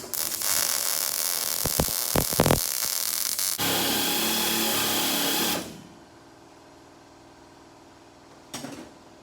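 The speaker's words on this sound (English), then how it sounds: "So let's get some welding done." Welding in a shop on a NASCAR Buick Regal build: a loud steady crackling hiss runs for several seconds, broken by brief pops, then cuts off to quiet room tone before a short final burst.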